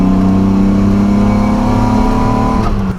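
A Datsun 280Z hot rod's inline six-cylinder engine pulls hard on a country road, a loud, steady droning growl from inside the car that holds then eases off near the end.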